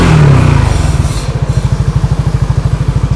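A Yamaha NMAX 180cc scooter engine accelerates close by, a loud rising drone that settles into a fast, pulsing putter with a regular beat, with no voices.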